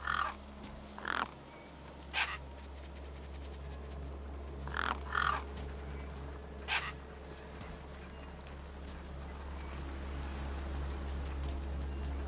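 Crows caw in the video game Beyond A Steel Sky, giving about half a dozen harsh, irregular calls over a steady low ambient drone that slowly thickens toward the end.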